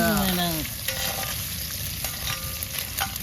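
Chopped bacon sizzles steadily in a cast iron pan over a campfire, with close frying crackle and occasional stirring scrapes.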